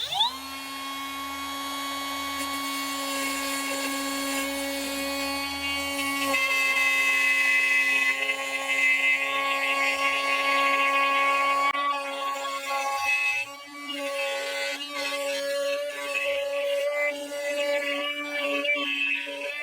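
A wood router spins up to a high, steady whine and cuts a circle in wood on a jig. The whine holds loud and close, then turns rougher and grittier as the bit bites into the material, with no talk.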